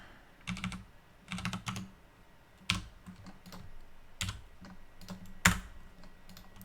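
A computer keyboard clatters nearby in short irregular bursts of typing, with a few sharper single key strikes between them and quiet gaps, and no voices.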